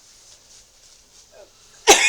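One short, explosive human sneeze bursts out at the very end after near silence and a faint breathy murmur.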